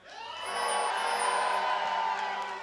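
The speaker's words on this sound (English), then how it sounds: "let me hear you cheer for Meat Playground." A live esports tournament crowd cheers for a team, a dense, sustained roar of shouts and whoops that swells and holds for a couple of seconds.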